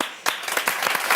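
Audience applause greeting a contestant on a French-language game show, a short burst of dense clapping that cuts in abruptly and holds at moderate level.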